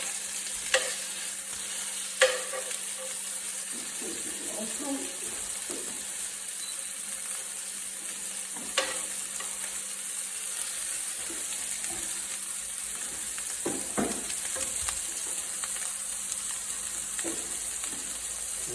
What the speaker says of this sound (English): while the meatballs are browning off